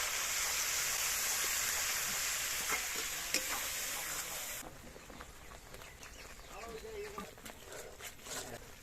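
Spice paste with ground coconut frying in oil for a potato dum curry, a steady loud sizzle that drops off about halfway, leaving quieter crackles and stirring scrapes.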